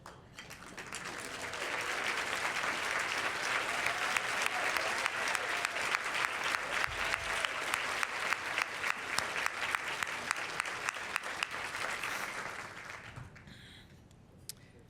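Sustained applause from a luncheon audience honoring past Women of the Year at a Women's History Month event, steady dense clapping swelling in and holding for about twelve seconds before tapering off.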